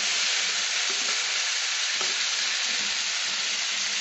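Spices frying with turmeric in a pan for a fish-head and bottle gourd dish give off a loud, constant hiss, with occasional scraping stirs.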